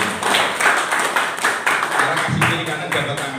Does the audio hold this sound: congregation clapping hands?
yes